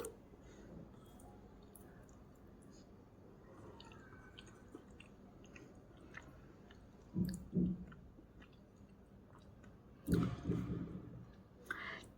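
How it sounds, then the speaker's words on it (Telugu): Someone eating fermented leftover rice (chaddannam) with mango pickle, producing soft, wet chewing and squishing close to the mic, with louder bursts of mastication around the middle and near the end. "నేనైతే ఆవకాయ వేసుకొని తింటున్నాను."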